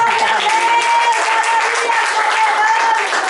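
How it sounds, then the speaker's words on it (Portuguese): A church congregation claps together in praise, a steady, even wash of applause filling the room over a continuous sustained tone, likely from music or amplification. "Dê suas palmas para o Senhor"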